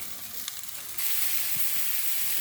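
Burgers sizzle on a gas grill, a soft crackle at first that swells into a loud, steady hiss and keeps going without a break.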